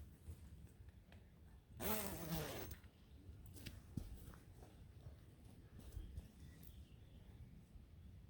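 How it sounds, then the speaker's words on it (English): A single quick pull of a tent zipper, about a second long, stands out against a quiet background with a few faint rustles and clicks. "a lot of people like, oh, the sound of that, the zips"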